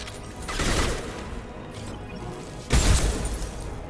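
An enemy turret fires in the Mass Effect 2 video game during a fight through a hospital, producing two heavy bursts of rattling, crashing gunfire over a dense mechanical rumble, loud and near.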